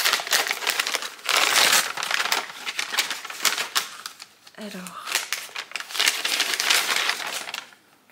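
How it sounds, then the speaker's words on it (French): Paper crinkles and rustles loudly in bursts close by as a package is opened, with a short pause midway, and a voice speaks briefly over the noise. "Je m'excuse d'avance pour les bruits de papier"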